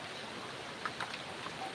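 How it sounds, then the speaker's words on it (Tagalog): Rain falls on a rainy afternoon as a soft, steady hiss, faint and continuous, with a few brief droplet ticks. "Ulan na to."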